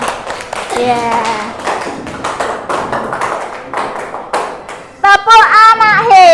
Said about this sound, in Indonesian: Bu Guru ingin memberi tepuk tangan untuk kita semuanya.